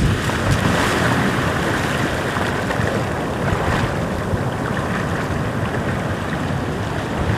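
Powerful ocean waves on a beach at Da Nang, a loud continuous roar of surf mixed with buffeting wind noise, dense and unbroken, with no voices.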